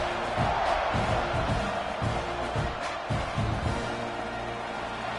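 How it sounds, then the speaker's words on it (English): Stadium crowd roar from a football video game, a steady loud wash of cheering that runs throughout with no break. "this crowd is feeling themselves after that last drive"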